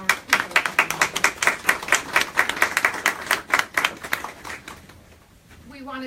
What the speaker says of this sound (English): So a big round of applause first to our Cooper.